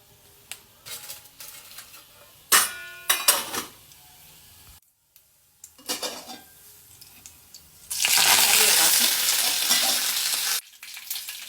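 Mustard seeds and cumin frying in hot oil in a pan, with a few scattered stirring and clinking knocks followed by a loud, steady sizzle that keeps up for several seconds before cutting off.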